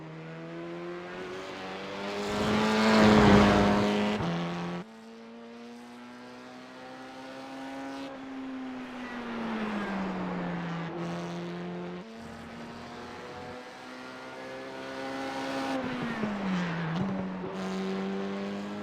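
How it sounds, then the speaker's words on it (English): Engine of the Formula IR-04 race car lapping Monza in the iRacing sim, a fairly quiet, smooth engine tone rising and falling through gear changes, with a louder surge early on, alone with no talk. "iRacing Formula IR-04 at Monza"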